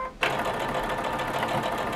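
A sewing machine stitching a log cabin quilt block starts up abruptly and runs in a steady, close, continuous whir, alone, with no talking.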